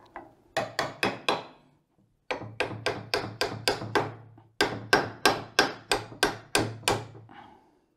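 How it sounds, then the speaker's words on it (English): Sharp, ringing hammer blows strike a metal bearing on a Citroën C6 in steady bursts of four to six taps, with short pauses between the groups. "it might come off with a couple of taps of the hammer"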